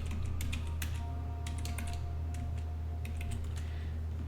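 Computer keyboard typing during a session of the online game EverQuest: light, quick clusters of key clicks in short uneven bursts over a steady low hum, with no voices.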